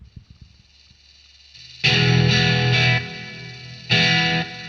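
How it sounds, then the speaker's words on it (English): A meantone-fretted guitar plays heavily distorted chords after a few faint plucked notes, two loud sustained strums ringing with a buzzy, saturated tone before each cuts off. "So let's try a bit more distortion."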